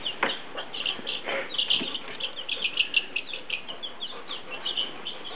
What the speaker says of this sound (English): You little chickies. Noisy little critters.